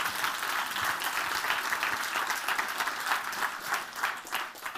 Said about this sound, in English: give them a nice round of applause as they join me on the stage